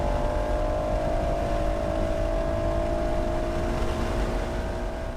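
A car on the throttle accelerates down the airstrip front straight at New York Safety Track, a continuous loud engine drone with a slowly climbing pitch and no pauses.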